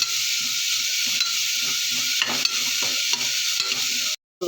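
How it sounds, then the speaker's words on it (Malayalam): Vegetables for one-pot vermicelli sautéing in a pot, with a loud continuous sizzle and repeated scraping strokes of a stirring spoon throughout, ending in a brief cut. "നമുക്കിനി ഇത് നന്നായി മിക്സ് ചെയ്ത് ഇളക്കി നല്ലോണം ഒന്ന് വഴറ്റിയെടുക്കാം."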